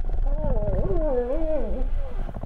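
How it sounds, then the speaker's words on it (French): Humpback whale song off Madagascar: long sweeping, wavering tonal moans rise and fall over a low rumble, sounding close and prominent for a couple of seconds. "les baleines à bosse."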